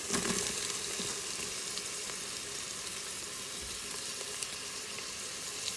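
Beetroot and other chopped vegetables sauté in a hot pan for vegetable kurma, giving a steady, even sizzle with faint stirring scrapes, close and continuous with no talk.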